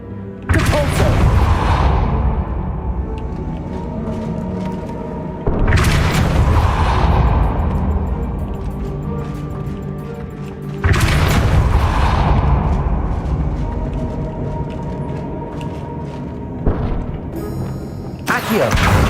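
The Depulso force spell from the Hogwarts Legacy video game, heard as four loud booming blasts spaced several seconds apart, each a sharp burst that rolls off into a long rumbling tail.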